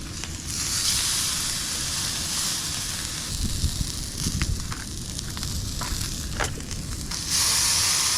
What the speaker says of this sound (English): We're gonna throw this steak on there.